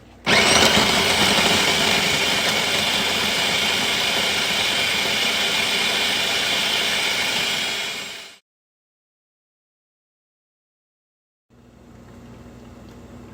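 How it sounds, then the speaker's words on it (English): A food processor chopping vegetables runs for about eight seconds in one loud, steady whirring burst, then cuts to silence before a fainter motor hum returns. "We're gonna close it up, pulse it for a little bit till it gets nice and minced up together."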